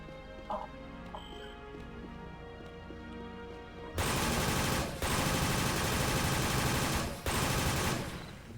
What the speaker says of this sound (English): Sounds like the pitch of the gunfire is also louder.